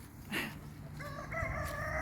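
A rooster in a Dutch village crows in one long, clear call at moderate distance against faint outdoor background noise, with a brief cluck-like sound just before.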